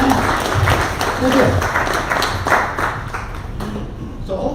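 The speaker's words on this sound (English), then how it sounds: "let's give him a round of applause for making it here for the first time." A live audience claps steadily for someone attending the Eustis, Lake County event for the first time, the applause filling the whole moment at a moderate, even level.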